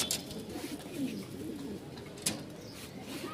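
Rajshahi Giribaz pigeons cooing at a pigeon market, soft low coos close by with scattered clicks and rustles, faint overall.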